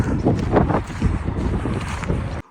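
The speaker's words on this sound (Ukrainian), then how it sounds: "вітер сьогодні. То було так тихо, це вітрюган" Strong wind roars and buffets the microphone in a continuous, loud rumble that cuts off abruptly just before the end.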